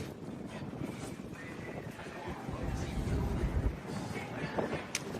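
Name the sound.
strong wind on cruise ship deck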